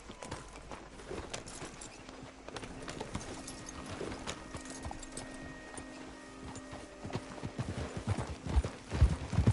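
Horses clip-clop at a trot through the Red Dead Redemption 2 game world, a steady stream of hoofbeats that grows louder and closer toward the end, with occasional faint game ambience and no clear talk.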